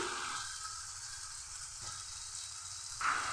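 Chicken, 300 grams, sizzles steadily in hot spiced masala that has released its oil, a constant close hiss with a light scrape near the end and no talking.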